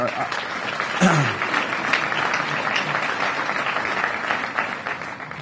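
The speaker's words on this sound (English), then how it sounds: "That's 2 rounds of applauses." An audience at a county government address breaks into a sustained round of applause, steady and full throughout, with faint voices underneath.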